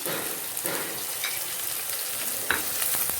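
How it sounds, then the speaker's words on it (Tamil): Onions sizzle and fry in a pan for quail masala, a steady close crackling hiss with a few brief stirring scrapes and no talking. "வெங்காயத்தையும் சேர்த்துக்கிடுவோம். வெங்காயம் கொஞ்சம் நல்லா சிவக்க வதங்கிடணும்."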